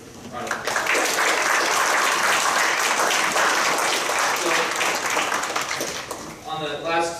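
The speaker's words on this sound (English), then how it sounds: "let's give them both another round of applause" Audience at a public library panel on UFO and alien sightings breaks into loud, sustained applause lasting several seconds, dense and steady before tapering off, with a voice starting to speak near the end.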